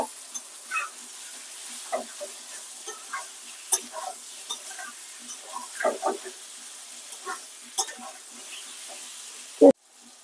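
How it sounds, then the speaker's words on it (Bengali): Chicken being fried down in spice paste with oil for a chana dal curry, soft sizzling under repeated spoon scrapes and taps against the pot, ending in a sharp clank. "আর মাংসটা ভালোভাবে কষিয়ে নেব"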